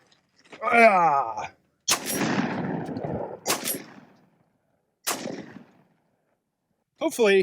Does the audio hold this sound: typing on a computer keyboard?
no